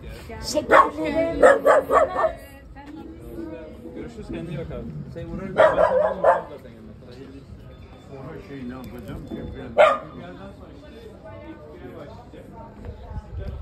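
A dog barks in short bursts, several sharp barks with pauses between, alongside people talking nearby.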